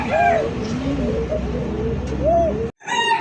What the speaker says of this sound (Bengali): কক কবুতর ডাকটা খুব সুন্দর ডাকের ডাক